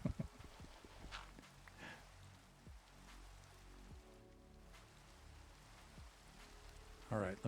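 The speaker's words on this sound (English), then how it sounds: "it wouldn't be Buffooncraft if it weren't raining." Steady rainfall in the video game Minecraft, a soft continuous patter with scattered light taps and a few louder knocks.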